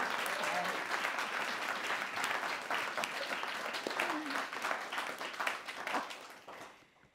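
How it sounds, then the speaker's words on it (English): An audience applauds an honoree at an honorary fellowship event, with sustained, fairly faint clapping that carries a crowd texture and tapers off in the final second. "I do think we should have a massive round of applause for Professor Dame Lesley Regan"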